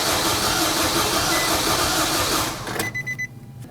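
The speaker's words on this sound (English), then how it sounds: "Now you want to get in the vehicle, crank the engine." Engine of a Nissan Frontier pickup cranking while fuel pressure is relieved during a fuel pump replacement, a loud continuous churning roar that cuts off abruptly near the end, leaving a few faint clicks.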